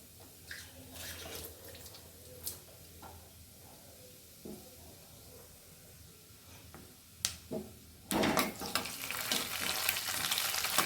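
Tempering vadagam dropped into hot oil on a low flame gives a sudden loud, steady sizzle that carries on without a break, after several seconds of quiet kitchen clinks and light knocks.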